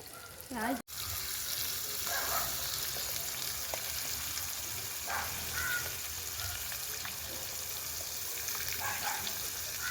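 Snakehead fish fries in a pan with a steady, close, crackling sizzle that runs the whole time, broken only by a brief dropout near the start.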